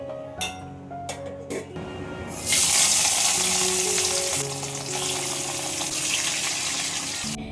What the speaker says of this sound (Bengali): এখানে কয়েকটা বাসন ছিল, সেগুলো কিন্তু আমি সব মেজে নিচ্ছি